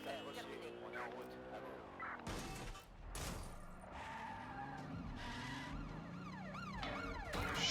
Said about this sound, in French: Urgence, une ambulance ici